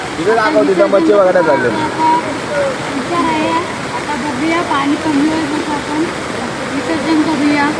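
Floodwater pours over a bridge after heavy rain, a continuous loud rushing wash, while people talk over it throughout.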